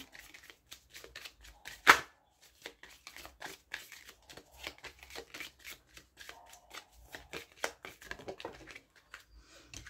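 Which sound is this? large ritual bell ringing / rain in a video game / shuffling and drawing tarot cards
shuffling and drawing tarot cards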